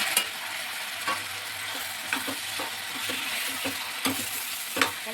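Tomatoes sizzling in a hot pan for a Kannada bitter gourd gojju, with a steady frying hiss and repeated scraping, clacking strokes of a spoon stirring throughout.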